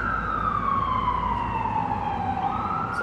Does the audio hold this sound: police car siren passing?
yes